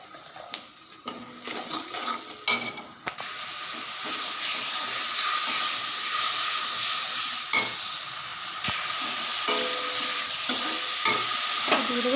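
Spiced taro greens being stirred in a hot pan, a steady sizzling hiss broken by scraping spatula strokes and clicks, loud and close throughout.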